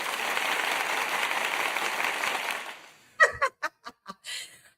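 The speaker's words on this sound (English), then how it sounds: "Let me go give myself a hand clap of praise." Recorded applause is played back by a host, a few seconds of steady crowd clapping that stops abruptly, followed by a handful of separate sharp sounds and a brief chuckle-like burst.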